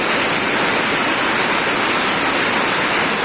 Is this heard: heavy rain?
yes